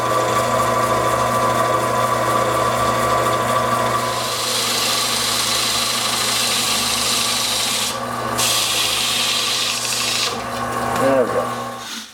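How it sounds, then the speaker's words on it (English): Someone sands a cork and resin bracelet by hand with a harsh, continuous close-up rasping and rubbing. The scraping runs the whole time and ends with a few brief bursts. "just sanding it up to see if it's even worth the effort"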